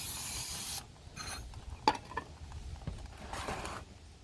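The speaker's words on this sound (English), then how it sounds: "I use CRC brake cleaner, because it's non-flammable" A short pressurized spray of CRC non-flammable brake cleaner hisses at the start during an oil change on a Thermo King Tripac truck APU, then stops, followed by scattered rubbing, scraping and light mechanical handling noises.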